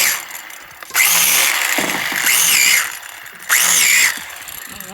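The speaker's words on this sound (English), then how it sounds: "David just wanted to show how fast the drill is when he's doing this" A power drill bores holes into shiitake mushroom logs, loud and close in three surges, with a high whine rising as the bit bites into the wood and quieter gaps between bursts.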